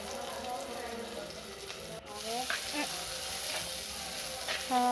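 Onion hits hot oil in a pan and sets off a fresh burst of sizzling after a brief clatter, continuing as a steady hiss under faint background sounds.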